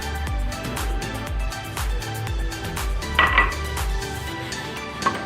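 Sugar tipped into roasted semolina in a pan for a gujia filling, with steady scraping and clinking of a utensil against the pan and a brief brighter rustle midway.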